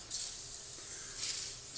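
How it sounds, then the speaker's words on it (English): An aerosol can of WD-40 sprays onto a greasy cast rotary table, giving two steady hissing bursts close to the mic with no talk. "And I'm just drowning this in WD-40 for now, just to try and lubricate, to loosen the grease up."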